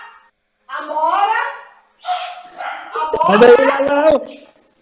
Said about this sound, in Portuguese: E ela não é de latir, deve ter alguém aí.